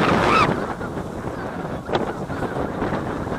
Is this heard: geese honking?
yes